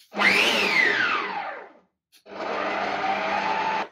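A stand mixer with a dough hook kneads kulich dough after the salt and remaining flour go in, a steady loud motor whir rising and shifting in pitch, pausing briefly, then resuming as an even drone.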